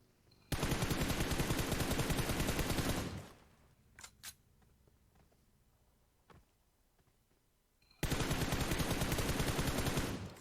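Sustained automatic gunfire in PUBG Mobile, two loud dense bursts of rapid shots at the start and end with a quieter gap holding a few isolated pops in between.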